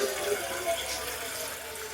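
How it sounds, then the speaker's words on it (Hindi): Water pours steadily into a pot of beef trotters being cooked at home, a continuous close rushing fill with no talk over it. "अब हम इसमें पानी को ऐड करेंगे।"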